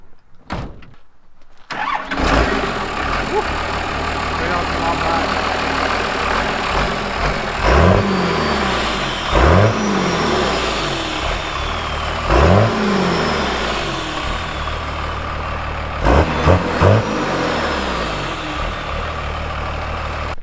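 A Cummins-swapped International truck engine starts and revs in several hard bursts, each throttle blip rising and falling over a steady, loud diesel idle, with no talking.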